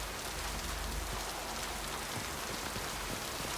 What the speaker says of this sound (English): I love how it rains on my suit.